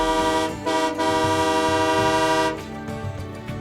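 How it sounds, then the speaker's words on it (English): A loud, sustained train whistle blows close by in two blasts at a port rail improvements kickoff event, a short break between them, the tone fading into a rumbling tail. "So, blow the train whistle."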